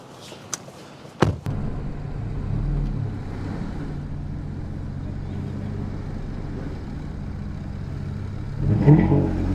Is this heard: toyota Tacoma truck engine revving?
yes